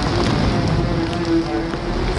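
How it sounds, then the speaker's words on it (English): Steady, dense rainfall hisses continuously, with a low rumble and faint hum underneath; no voices. "the rains began"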